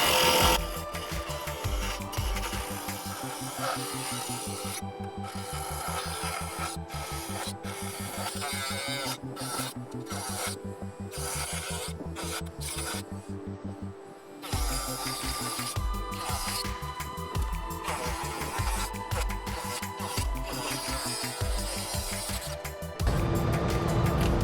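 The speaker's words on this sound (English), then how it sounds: "sand it down with I think it's like 180. Yeah, 180. I'm gonna sand it down." Truck fenders are sanded down with 180-grit paper by a low-speed power sander, a steady close whirring and rubbing that holds for the whole stretch with a rhythmic pulse, eases briefly midway, then resumes.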